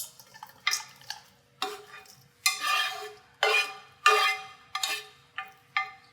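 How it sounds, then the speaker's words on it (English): Sautéed vegetables being stirred into marinara sauce, heard as close, wet, scraping stirs in a pot, about nine distinct strokes in a steady, irregular rhythm, with quiet gaps between them and no voice. "we're going to go ahead and mix them up with our marinara sauce"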